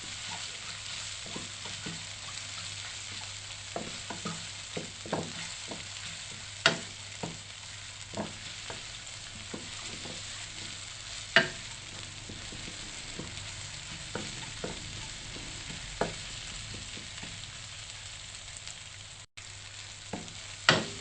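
Pounded garlic, pepper and coriander root stir-fry in hot oil, giving a steady close sizzle with scattered sharp clicks and scrapes of a utensil against the pan throughout.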